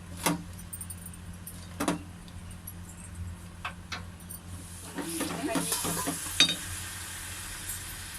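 A spoon stirring gongura sorrel leaves and chicken in a frying pan, scattered scraping clinks and sharp taps over a faint sizzle, close and intermittent, growing busier toward the end.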